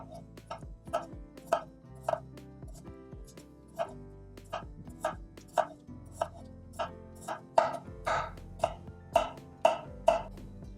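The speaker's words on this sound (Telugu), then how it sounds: "దీన్ని కూడా చిప్స్ లాగా థిన్ స్లైసెస్లో నేను కట్ చేస్తా" A knife chops small potatoes into thin chip-like slices on a board, giving a steady run of sharp, close taps that speed up and grow louder toward the end, with a low background hum.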